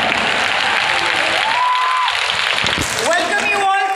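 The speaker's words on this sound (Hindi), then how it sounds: "एक बार अपने लिए जोरदार तालियां आ जाए।" Loud applause from a large seminar crowd in Delhi's Indira Gandhi stadium, a dense sustained wash of clapping with a voice speaking over it.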